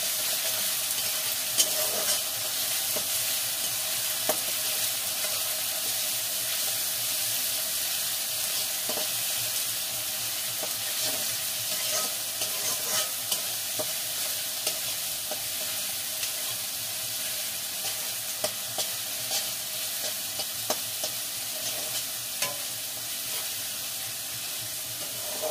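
Ginger garlic paste frying with lightly browned onions in a pan, a continuous close hiss of sizzling oil with scattered small crackles and occasional scrapes of stirring, no voices.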